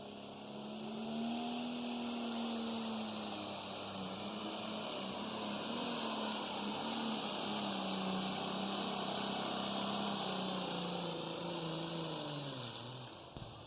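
A New Holland tractor at a tractor pull holds a loud, sustained engine roar with a steady, slowly wavering pitch over constant high whine, sounding like a heavy machine under strain at a distance.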